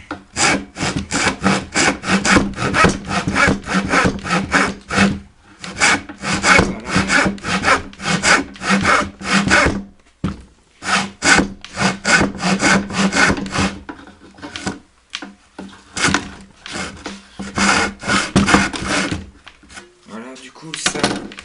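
Rhythmic strokes of a hand saw rasping through wood, in several bursts separated by short pauses, close and fairly loud.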